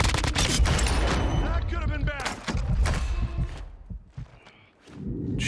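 Rapid bursts of automatic gunfire in the Call of Duty Warzone battle royale, loud and close, clustered in dense volleys with scattered single shots and a brief lull near the end.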